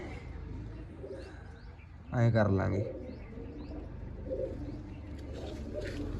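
Pigeons kept in a loft and handled for deworming give a short, close cooing burst in the middle, while someone talks on and off around it.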